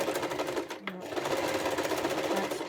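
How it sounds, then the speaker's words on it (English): A sewing machine stitches fabric for a face mask with elastic, running in a fast, steady whir close by with a brief pause partway, while a voice talks over it. "So I'm sewing on the wrong side of the material"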